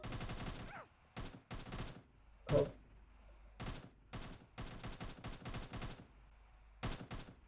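Gunfire in a PUBG squad survival match, in short separate bursts and volleys spread across the stretch, with quiet gaps between them and the whole thing fairly faint.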